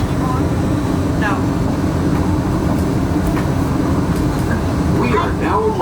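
The Disneyland monorail rumbles steadily into a station, a close continuous roar with faint squeals, while riders talk over it.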